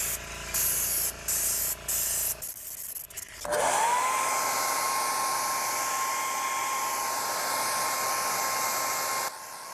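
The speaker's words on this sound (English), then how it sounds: "using a hair dryer to blow it dry" A hair dryer blows airbrushed paint dry on a worn car steering wheel, entering after a few short airbrush spray bursts and then running as a loud, continuous whirring roar with a steady whine until it cuts off near the end.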